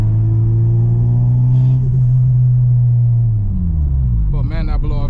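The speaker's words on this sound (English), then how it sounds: "But man, that blow off valve sounds so damn good on this car." A turbocharged Honda Civic Si rumbles loudly from inside the cabin, its engine tone falling as it comes off throttle, followed by a short series of fluttering blow-off valve bursts near the end.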